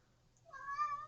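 A cat meowing once, a single clear, drawn-out tonal meow rising in the second half, close and fairly quiet in an otherwise silent room.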